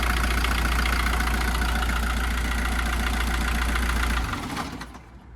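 A 1.9-litre diesel engine in a Volkswagen T4, over 20 years old, idles steadily with a low, even rumble and light rattle, then cuts off and fades out near the end.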